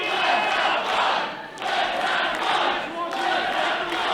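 A crowd at a WPW street fight wrestling match in the Voyageur Cup semi-final, a loud roar of cheering and yelling that swells, dips briefly, then surges again, filling the room throughout.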